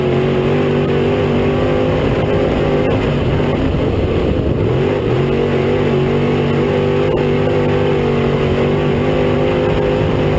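Race cars at Cedar County Raceway drone and rev continuously, a loud, dense engine roar that swells slightly mid-pass without a break.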